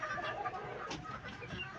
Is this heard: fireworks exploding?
no